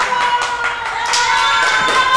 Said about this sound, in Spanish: los aplausos de la gente.